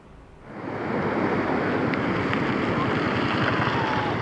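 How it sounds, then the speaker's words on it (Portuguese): Floodwater surges over a bridge on the road toward Boqueirão in Paraíba after heavy rains. Its rushing roar swells within the first half second, then holds loud and constant, with no talk. "exato momento que a água acaba de passar por cima da ponte"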